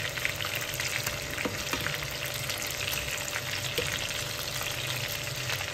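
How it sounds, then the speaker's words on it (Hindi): Kebabs sizzle steadily in a hot pan, a continuous close frying hiss with faint occasional stirring clicks and no talk. "कबाब जो है वो इनको ये वाले बहुत पसंद हैं, तो मैं ये भी इनके लिए फ्राई कर रही हूँ"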